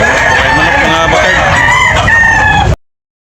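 A rooster crows loudly and close by at a poultry market in Tabunok, Talisay, Cebu, a long wavering call with other fowl clucking underneath, ending abruptly.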